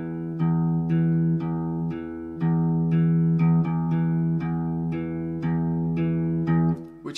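Fingerstyle guitar plays the intro of a song, a sustained low note under repeated plucked notes in a slow, even pattern, close and clean with no talk.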